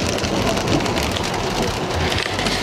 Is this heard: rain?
yes